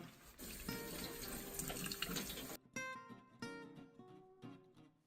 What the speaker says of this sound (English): So once you're done washing the bok choy